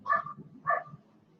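A dog barks twice, close and fairly loud, the two sharp barks about half a second apart followed by quiet; no talk.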